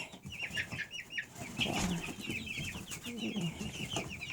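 Chicks and a guinea fowl in an outdoor coop make faint, continuous high peeping and chirping, with occasional lower clucks and soft rustling nearby.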